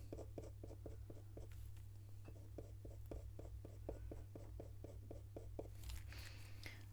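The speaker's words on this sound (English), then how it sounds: "this white pencil's going over it really well" A white coloured pencil shades over paper in fast, even back-and-forth strokes. The scratchy scraping is close but faint and runs steadily over a low hum.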